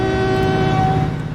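A train horn toots in Transport Fever 2 as a train sets off, a steady sustained tone held for over a second over low rumbling, with no talk.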